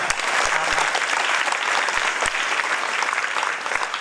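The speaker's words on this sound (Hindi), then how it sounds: "पापा के लिए तालियां।" An audience at a lecture on what daughters should and shouldn't do claps to honor a father, a dense, steady wash of applause for about four seconds with a few sharper claps standing out.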